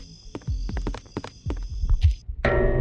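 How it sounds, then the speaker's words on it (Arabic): A heartbeat effect from a clown-themed amusement park escape video game thumps in a quick, irregular run of low pulses, followed by a brief hiss and a burst of other game noise. "هو تقريبا صوت دقات القلب دوت يعني كده هو قريب مني صح؟"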